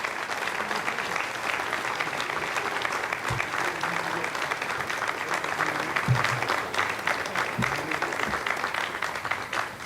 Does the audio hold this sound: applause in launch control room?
yes